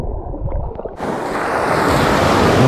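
Sea surf rolls onto the Crimean shore, a loud, continuous rush of breaking waves that swells in suddenly after a brief, quieter opening and then holds steady with some wind noise.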